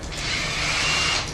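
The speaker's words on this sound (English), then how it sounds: "the drill or whatever I'm using going round" A combi drill whirs continuously at close range, a steady high mechanical whine with a gritty rumble underneath, briefly and without pause.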